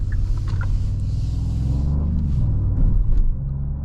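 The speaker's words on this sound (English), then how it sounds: "Very low grunting sound from this engine." A Genesis GV80 Coupe's engine, partly augmented by pumped-in cabin audio, gives a low, deep grunting rumble heard from inside the SUV, steady and fairly loud, swelling slightly near the end.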